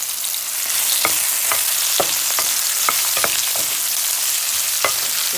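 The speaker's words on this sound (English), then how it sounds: "So I have some mushrooms, some pepper, some garlic. I'm gonna put that in here first." Mushrooms, pepper and garlic sizzle loudly and steadily in a stir fry pan, a constant hiss of frying with scattered sharp crackles and pops.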